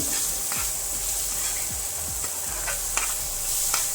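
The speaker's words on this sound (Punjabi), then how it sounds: "ਤੇ ਹੁਣ ਪਾਵਾਂਗੇ ਆਪਾਂ ਅਦਰਕ ਲਸਣ ਹਰੀਆਂ ਮਿਰਚਾਂ ਇਹਨਾਂ ਨੂੰ ਵੀ ਨਾਲ ਹੀ ਫਰਾਈ ਕਰਾਂਗੇ" Ginger, garlic and green chillies fry with onions in a pan, a steady soft sizzle broken by several scraping stirs of a spoon, close and fairly quiet.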